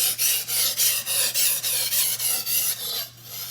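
A Japanese knife is drawn across a whetstone in a steady rhythm of about ten loud, close rasping strokes, each a gritty scrape, alone without talk.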